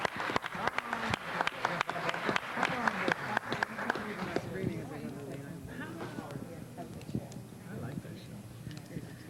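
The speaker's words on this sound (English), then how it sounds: "Give them a big round of applause" An audience at a Los Angeles city council meeting applauds, with dense clapping at first that thins out and fades under a speaking voice.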